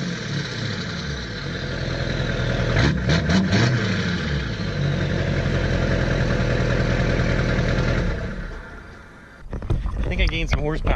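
Duramax diesel truck engine cranks, catches and settles into a loud, steady idle close by, with a brief voice near the end.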